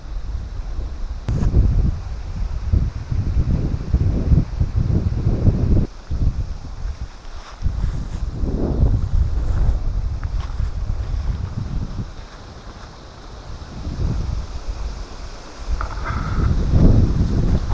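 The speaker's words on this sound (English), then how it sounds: "Well, the rain held off, but it's still windy." Steady wind buffets the microphone outdoors at a lakeshore, a continuous low rumble with gusts swelling and easing, and no talking.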